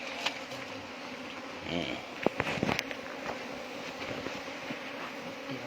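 Bees buzzing at a hive during a beekeeping session, a dense, steady hum that fills the scene, with a few brief knocks and clicks and some talk mixed in.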